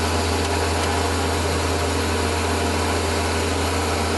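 Metal lathe facing the end of a metal bar, a steady loud continuous whirr and cutting hiss running unbroken throughout, with no talk.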